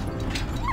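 A happy dog in Valiant Hearts gives a short excited yip and whimpering bark at the end, close and clear over a low ambient game background.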